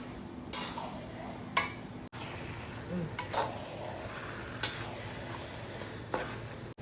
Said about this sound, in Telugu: ఇది మిరపకాయలు వేయించడం కదా